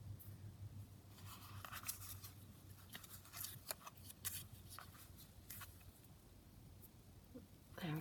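Scissors snip loose threads from fabric on a handmade junk journal, a series of faint, close, irregular clicks and cuts over quiet background hum.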